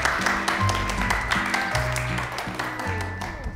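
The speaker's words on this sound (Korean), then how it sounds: "박수 한 번 더 크게 해주실까요?" Audience applause for a singer-chef on a televised lecture show, continuous clapping with low piano-like musical tones sounding beneath it.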